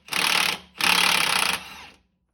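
A Milwaukee 1/2-inch impact wrench zaps a driveshaft bolt on a Jeep Wrangler in two bursts, a short hammering rattle and then a longer one, close and loud, before quiet returns.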